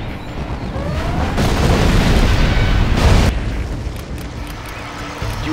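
A barracks blows up in C&C Generals with a loud, rolling explosion that booms and rumbles for several seconds, then fades into lingering debris crackle.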